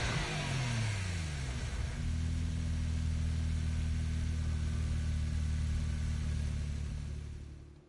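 A Volkswagen GTI VGT engine in the Gran Turismo racing game revs up, rising pitch sweeps climbing then holding a steady high drone, smooth and continuous with no voices.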